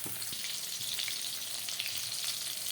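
Hilsa fish fries lightly in a little oil, a soft, steady sizzle with faint crackle, heard close and alone for a few seconds.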